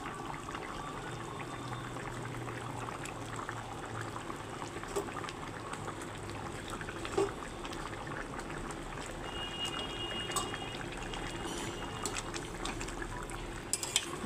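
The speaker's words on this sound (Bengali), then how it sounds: "এখন আমি ভাজা মাছগুলো দিয়ে দিচ্ছি" Fried rohu fish pieces simmering in a thin potato and cauliflower curry, giving a steady low bubbling with a few light clinks of a utensil against the pot; no one speaks.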